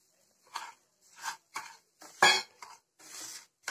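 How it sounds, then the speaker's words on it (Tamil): Semolina being lightly roasted in a pan for somas, stirred with a utensil that scrapes and clinks against the metal in about six separate strokes, with near-silent gaps between them. "இதே லைட்டாக வறுத்துக்கணும் ரவையும்"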